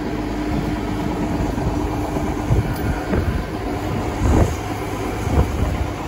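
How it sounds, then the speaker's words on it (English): A wheel loader on tractor lug tires cleaning muddy, slippery manure from a cattle pen, its diesel engine droning steadily nearby with a few clanks and thumps from the bucket and no voices. "Them damn payloaders are worthless in the mud or slippery manure, unless you got tractor lug tires like these do."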